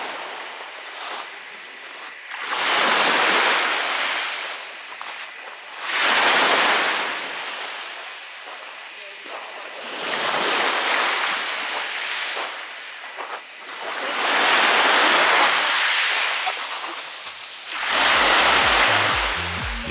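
Gentle waves washing onto a calm sea shore in Bodrum, slow swells rising and receding every few seconds, steady and fairly close, with a light breeze and no voices.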